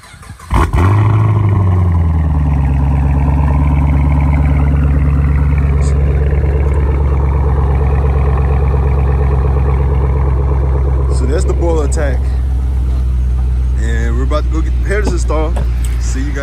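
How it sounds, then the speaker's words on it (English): Chevrolet Camaro SS V8 with a catback exhaust fires up from cold after sitting two days, a loud sudden start settling into a steady, rumbling high idle; a voice talks over it near the end. "So I'm just doing a little cold start."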